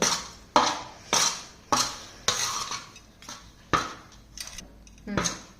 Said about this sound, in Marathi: हे सर्व मिश्रण एकत्र करून घ्यायचं आहे।